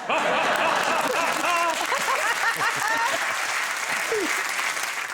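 Studio audience at a comedy quiz show applauds loudly and steadily, continuous clapping with scattered laughter and whoops mixed in throughout.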